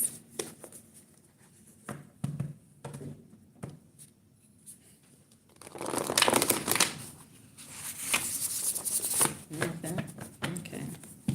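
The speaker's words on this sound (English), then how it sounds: "What happened if I shuffle these like this?" A deck of cards is shuffled in a few bursts of quick riffling and ruffling, close but soft, with a person talking in between.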